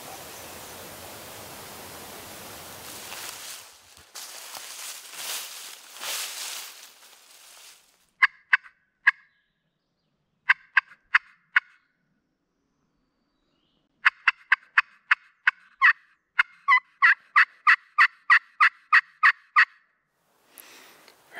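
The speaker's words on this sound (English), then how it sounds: "he gobbled right over that hill that we were just sitting on" A wild turkey gobbler gobbles from a mountain slope, with repeated bursts of sharp rattling gobbles clustered in groups. A wash of rushing noise early on gives way to quiet between calls.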